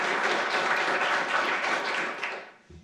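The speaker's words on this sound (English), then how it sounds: "So let's give Maureen a big round of applause." A round of applause from the audience at a city's State of the Address presentation, a dense even clapping that holds steady, then thins and fades away near the end.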